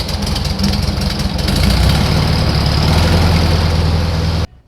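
A 1964 VW Beetle engine, air-cooled, fires up and settles into a loud, close, steady low idle with a rough chugging rhythm, then cuts off abruptly at the end, no talking.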